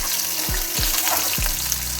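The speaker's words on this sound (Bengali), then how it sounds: "উচ্ছেগুলোকে ভেজে নিই ভালো করে" Bitter gourd slices frying in hot oil with bay leaf, a steady close sizzle broken by a few low thumps as the pieces are moved in the pan.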